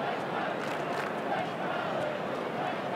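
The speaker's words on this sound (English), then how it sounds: "Crowd right on song at Optus" A large stadium crowd at Optus Stadium during an AFL match between West Coast and Richmond gives a steady, loud roar of cheering, with a commentator's voice over it.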